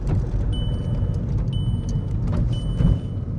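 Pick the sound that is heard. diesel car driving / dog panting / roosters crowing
diesel car driving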